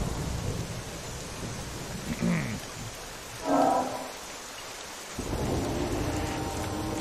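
Steady rain pours down with rolling thunder in the survival game The Isle, the rumbles swelling twice in the middle and a heavier downpour surging back near the end.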